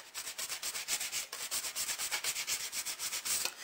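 Embossed metal foil being sanded by hand: steady, rhythmic rasping strokes, close and continuous, with no voices.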